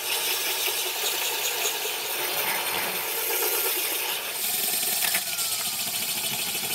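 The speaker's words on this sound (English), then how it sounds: "Just barely letting the pressure of the drill rest on the glass." Drill bit grinding slowly through lubricated glass under very light pressure, giving a steady, close, continuous hiss and scrape with a few brief clicks near the end, with no talk.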